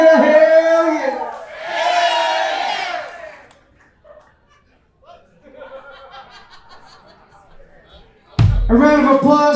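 A crowd at the Grand Ole Opry answers a call with loud shouts of hell yeah, a bright roaring burst followed by a quieter stretch of scattered voices, then another surge of cheering at the end.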